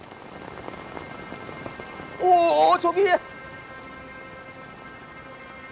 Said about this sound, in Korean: 그런데 또 한 번 비가 오죠